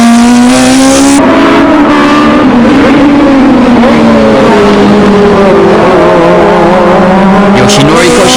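Toyota TRD Hachiroku race cars battle at Tsukuba circuit, engines revving hard and shifting pitch as they chase closely, loud throughout with a commentator talking over the racing.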